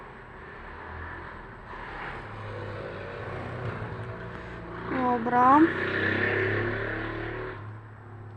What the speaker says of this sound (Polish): znów mam otwarte okna i wszystko słychać. Autobusy, motory, auta, wszystko. Ale bardziej te motory.